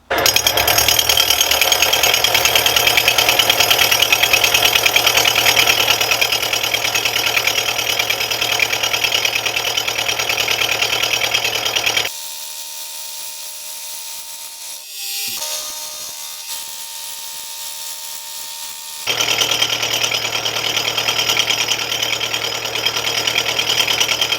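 A machine takes cutting passes on the cast base of a Stuart S50 steam engine with a loud, harsh grinding whine. It stops for several seconds of near quiet with faint clicks, then resumes just as loud.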